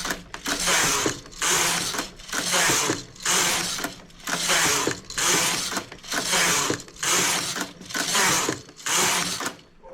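A knitting machine carriage knitting rows of a sweater, swept back and forth in a steady rhythm, each pass a loud close rattling, clicking mechanical rush separated by brief pauses, repeating about nine times.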